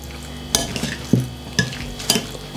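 Avocado salad mixed in a bowl with a spoon: a handful of sharp clinks and scrapes spaced about half a second apart, close and fairly clear with no voices.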